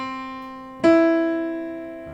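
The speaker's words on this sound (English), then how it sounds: "that is the sound of the major third" A major third sounds as two sustained piano-like notes: a lower tone rings first, then a second, higher note strikes clearly and both decay slowly together.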